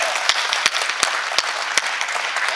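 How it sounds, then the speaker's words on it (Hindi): Audience at a Hindi poetry recital, a kavi sammelan, bursts into dense, steady applause with sharp individual claps standing out, filling the whole short stretch at close range. "एक बार जोरदार तालियां, दोनों हाथ उठा के।"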